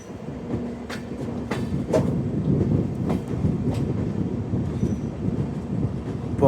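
A train rolls into New Haflong railway station in Assam, with a steady rumbling roar, rhythmic wheel clicks over rail joints and occasional sharp metallic clanks, loud and close throughout.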